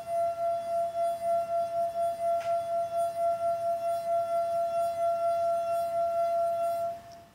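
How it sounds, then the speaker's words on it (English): A wine glass partly filled with water sings as it vibrates, holding one clear sustained ringing tone with a gently pulsing swell for several seconds before it fades out. "So we were able to make this wine glass sing out by making it vibrate."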